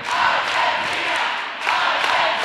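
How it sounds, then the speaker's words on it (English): A roller derby crowd at an Argentina versus Australia match shouts together for a skater, a loud, steady roar of many voices with a brief dip before swelling again. "The whole crowd shouting for Chispita."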